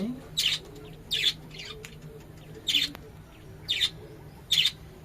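A young pigeon being hand-fed gives five short, shrill begging chirps in an uneven rhythm, close and fairly loud over a quiet room background.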